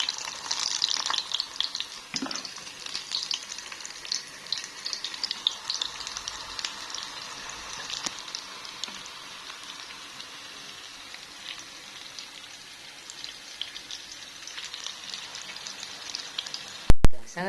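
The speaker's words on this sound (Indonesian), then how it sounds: "Ini dikukus juga enak sih, tapi aku goreng aja." Corn fritter batter frying in hot oil, a steady soft sizzle and crackle running throughout, moderately near, with a sharp clatter near the end and no talking.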